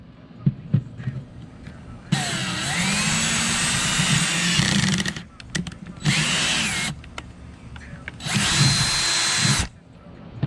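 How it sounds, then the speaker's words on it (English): A power drill whines loudly in three long bursts, with short gaps and clicks between them as it bores through fittings for an air suspension setup. "I can all just drill them straight through."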